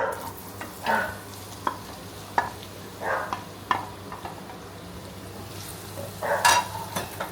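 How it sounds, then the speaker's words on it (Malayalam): Small onions dropped into hot oil and stirred, with a steady low sizzle broken by repeated scraping strokes of a utensil in the pan, close up and alone. "അപ്പോൾ ഇനി എണ്ണ ചൂടായിട്ടുണ്ട്. സോ നമുക്കിതിൽ നമ്മുടെ ഫസ്റ്റ് തന്നെ നമുക്ക് ചെറിയ ഉള്ളി ഇട്ട് വെക്കാം."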